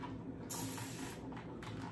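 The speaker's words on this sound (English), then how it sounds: "So I'm just going to spray this here." Spray bottle misting warm water onto already wet hair during a wash-and-go curl styling, a short broad hiss of spray bursting in near and clear over a steady low background hum.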